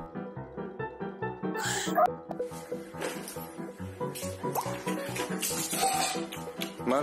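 A baby husky yips, barks and whimpers in quick bursts, close and lively, with a short splashy noise partway through.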